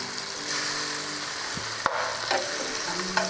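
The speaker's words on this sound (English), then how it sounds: "So let's check our meat. There we go, she's starting to brown. Just want to give a light sear on it." Thin pieces of steak searing in a pan, a steady close sizzle broken by a few scraping and clinking stirring sounds.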